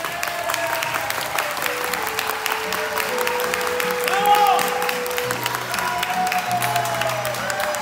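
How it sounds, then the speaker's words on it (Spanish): Steady audience applause at an anniversary show, with loud clapping filling the whole stretch, a brief swell near the middle, and a few faint voices or tones underneath. "solo un aplauso les pido"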